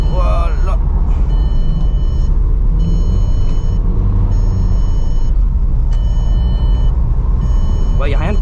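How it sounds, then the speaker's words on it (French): A front-wheel-drive estate car drifting lap after lap around a roundabout: loud, continuous engine drone and tyre noise up close, with brief squealing tones near the start and end and a voice talking over it. "T'enchaînes des tours de rond-point tout le temps en drift"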